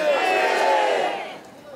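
A crowd at an independence movement reenactment in Daegu lets out a loud, sustained mass shout of manse cheers that swells and then fades within about two seconds, with many voices blending into one roar.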